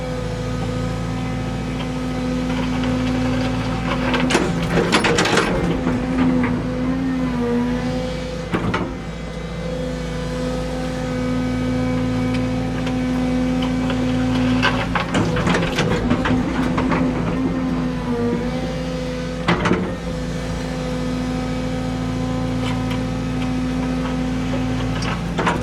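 A grader shapes the ground on a worksite, its diesel engine droning steadily up close while bursts of clanking and scraping rise at intervals as the blade works the soil.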